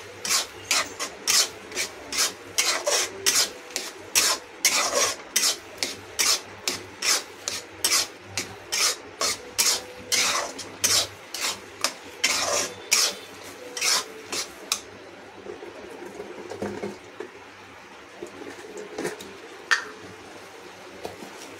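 Milk simmers in a tall pot for making ghee while a spoon stirs it in steady, rhythmic rasping scrapes against the metal, loud and close, easing into softer, sparser scraping toward the end.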